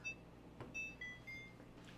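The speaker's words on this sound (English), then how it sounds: "Timer for 35 minutes." A kitchen timer set for a boiling water bath of home-canned tomato sauce jars gives faint, high electronic beeps over a quiet room hum.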